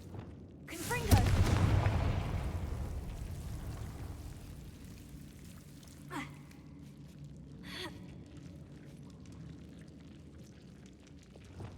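Confringo explosion spell in a Harry Potter video game, with a loud booming blast that rumbles and fades over several seconds, followed by softer magical whooshes and game effects.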